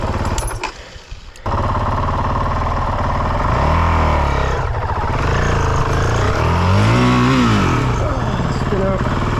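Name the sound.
vehicle doing a burnout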